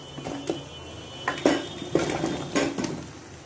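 Olives tipped into melted sugar in a pan for Bengali olive pickle (jolpai achar), giving a few soft clatters and scraping stirs of a utensil against the pan, close and moderately loud with gaps between strokes.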